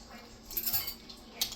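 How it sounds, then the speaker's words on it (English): A spoon stirring creamed corn ingredients in a bowl gives a few brief close metallic clinks and scrapes against the dish, no speech. "I usually stir that up a little bit"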